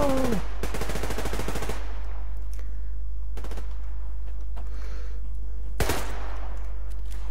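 Gunfire in the Survarium shooter game: a long rapid automatic burst, followed by a few isolated sharp shots spaced through the quieter stretch, with no talk.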